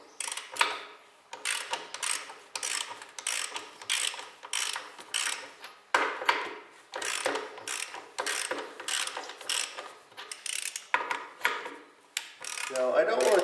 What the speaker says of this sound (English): I like to go around and take the bolts loose that hold the eccentrics onto the wheel